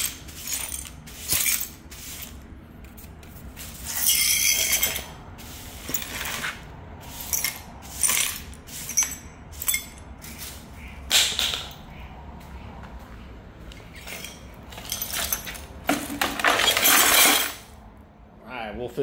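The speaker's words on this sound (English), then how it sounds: "So let's go ahead and get this glass picked up." Broken glass being picked up and swept during a garage cleanout: irregular clinks, rattles and scraping bursts of shards and debris, fairly close, with voices talking at times.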